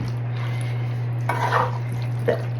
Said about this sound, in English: And I'm just going to stir it in.